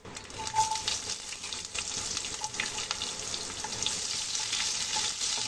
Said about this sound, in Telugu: ఆనియన్ గోల్డెన్ బ్రౌన్ కలర్ వచ్చేంత వరకు ఫ్రై చేసుకుందామండి.